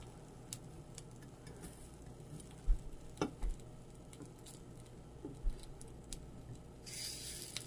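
Pearl millet paniyaram cooking in a paniyaram pan gives a soft, low sizzle broken by a few scattered clicks and taps as the pieces are flipped, quiet and close with no voices.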